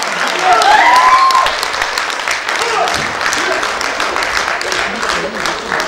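Concert audience applause at a holiday concert, a full, steady wash of clapping that stays loud throughout, with a brief whistle near the start.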